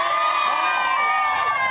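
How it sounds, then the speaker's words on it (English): Studio audience cheering for Paula Abdul on a morning TV show, a loud, dense burst of crowd whoops and shouts sustained over the whole brief moment. "big cheer for Paula Abdul then?"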